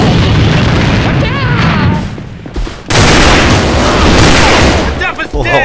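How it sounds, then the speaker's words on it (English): A grenade goes off in the online shooter AVA, a heavy boom landing after a brief lull and sitting among dense gunfire and game noise, with players talking excitedly throughout. "grenade!"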